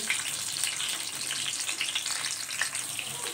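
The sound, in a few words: onions frying in hot oil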